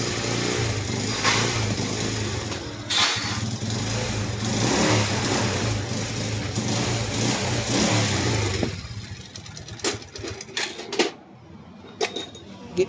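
An R180 motorcycle engine runs nearby with a rough, vibrating drone that holds steady for several seconds, then drops away into quieter sputters and knocks.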